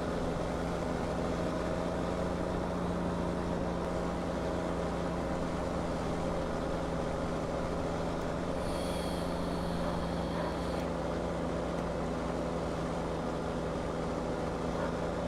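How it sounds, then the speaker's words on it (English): A tractor engine in the Farming Simulator 2017 video game hums at a steady, quiet idle-like drone throughout, with a brief higher whine partway through and no speech. "can you guys hear the tractor okay"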